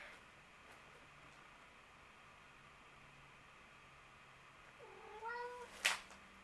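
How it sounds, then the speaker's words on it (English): A cat named Ripley gives a single drawn-out meow near the end, rising then falling, after several seconds of quiet hiss with a faint fan-like hum. "the cat meowing is Ripley."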